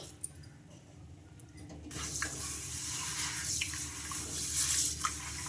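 Ragi and rice grains washed in water, a steady near splashing and sloshing that starts after a quiet couple of seconds and continues alone with small drips and knocks.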